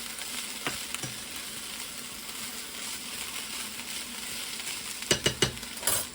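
Kale cooking down in a pan over low heat, a continuous soft sizzle with a few sharp clicks and clatters toward the end, no voices.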